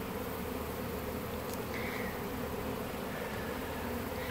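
Honeybees swarm in a dense, continuous buzz during a hive removal, a loud, steady drone of many wings close by with no voices.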